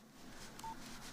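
A single short electronic keypad beep from a mobile phone while an SMS is being typed, quiet and close over a soft background hiss, with no talking.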